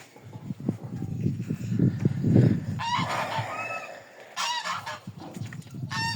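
Geese honking loudly and repeatedly in a small enclosure, harsh nasal calls rising over a low rumbling cackle, several birds calling close by as a gander attacks a young goose.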